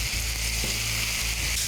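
Ancho chili sauce poured into a hot pan for a Mexican beef stuffed yam, giving a dense, steady sizzle that fills the short stretch, close and loud with faint low clatter underneath and no voices.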